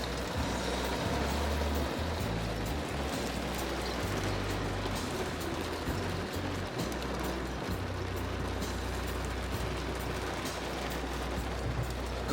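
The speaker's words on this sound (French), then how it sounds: "je suis dans un orage de grêle" Hailstorm at the Grand Canyon: a dense, constant patter of hail and rain hammers down loudly and evenly for the whole stretch, with a low rumbling undertone beneath the roar.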